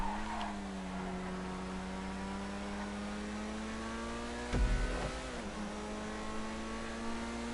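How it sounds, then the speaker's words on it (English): A car engine in GTA 5 hums steadily at a constant pitch, then briefly drops and revs back up with a short rumble before settling into a smooth drone. "I honestly really like how this car sounds."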